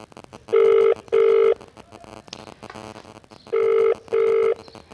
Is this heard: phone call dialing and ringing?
yes